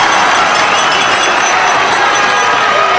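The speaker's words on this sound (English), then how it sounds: "And the crowd here at the Madhouse on Hickman, they love it" A loud, steady roar from an ice hockey crowd at the Madhouse on Hickman in Des Moines, cheering a save as a continuous wash of voices and noise with no breaks.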